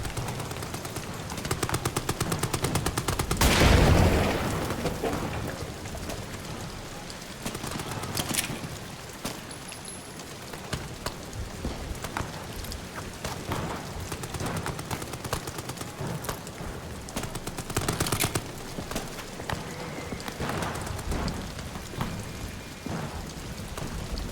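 Gunfire from a gun in Amnesia: The Bunker, a loud burst of shots early on followed by scattered sharper cracks over a constant rain-like noise bed, with no voices.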